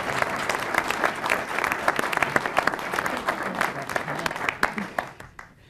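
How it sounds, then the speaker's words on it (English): An audience at a civic discussion event claps in a steady, dense burst of applause that fades out over a few seconds, fairly close and moderately loud. "You can applaud now."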